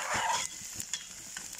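Onion sizzling in a pan while being stirred, a steady soft frying hiss with light scraping and stirring clicks, close and quiet with no talk.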